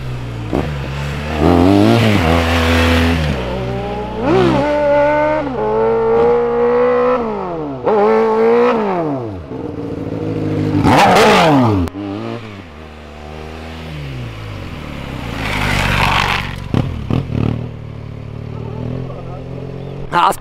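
A Honda Hornet motorcycle engine revs repeatedly, climbing and dropping in pitch as it passes close by on a street, with shouting voices over the roar.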